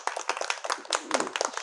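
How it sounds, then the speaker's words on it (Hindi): Schoolchildren clapping for themselves in a classroom, a quick ragged burst of many hands clapping close by, uneven and overlapping for a second or two. "अपने लिए ताली बजा दो एक बार"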